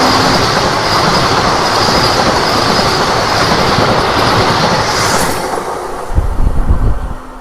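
A passing Vande Bharat Express on the Tirupati–Varanasi route roars past at close range with loud, steady rail rumble and wheel clatter, then thins out as it clears the crossing.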